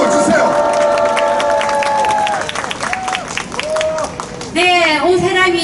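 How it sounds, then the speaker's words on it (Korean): A large outdoor rally crowd in front of Sungnyemun gate in Seoul claps and cheers loudly, with strong tonal voices or calls riding over the noise and a sharp rise in sound near the end. "박수 주세요."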